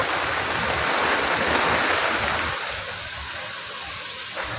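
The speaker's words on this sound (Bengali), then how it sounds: "মুসলধারে বৃষ্টি নেমেছে" Heavy morning rain pouring steadily, a dense continuous hiss of falling water that is loud at first and eases slightly toward the end, heard alone without voices.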